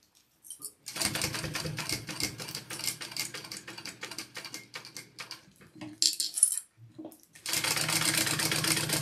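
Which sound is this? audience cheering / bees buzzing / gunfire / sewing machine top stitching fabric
sewing machine top stitching fabric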